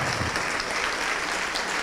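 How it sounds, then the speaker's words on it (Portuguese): A church congregation applauds during a service, a dense, even wash of clapping that holds at a steady level without pause. "Vamos aplaudir mais, igreja."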